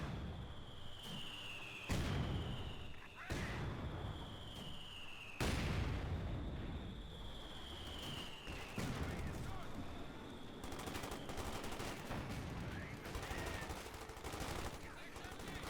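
Machine gun bursts and artillery fire in the video game Company of Heroes 2, loud sharp blasts and rattling gunfire repeating through the fight, with whistling shells and an occasional voice in the background.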